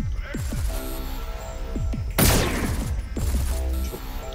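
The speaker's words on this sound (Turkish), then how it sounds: "Şu çocukları bu SMG ile halledelim." SMG fire in the cyberpunk game SlavicPunk: Oldtimer, a string of sharp shots with falling ricochet-like tails and one big blast in the middle, loud over steady game ambience.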